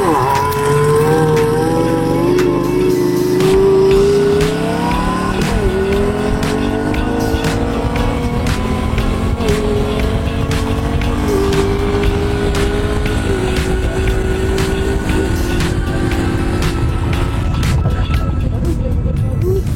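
Loud, continuous motorcycle engine roar with rising and falling pitch as gears change, accompanied by wind noise and some speech mixed in.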